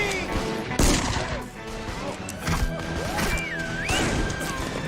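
Gunfire from a Western movie shootout rings out as loud, sharp cracks and crashes at irregular intervals, mixed with a busy scene of clattering and other action sounds.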